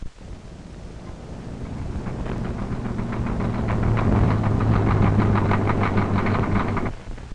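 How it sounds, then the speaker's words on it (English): A car engine knocking on unsuitable gasoline: a steady engine drone rises in intensity, overlaid with a rapid, rhythmic metallic pinging that grows more pronounced midway, then cuts off near the end. "Listen to this pinging sound. We call this type of audible engine noise the knock."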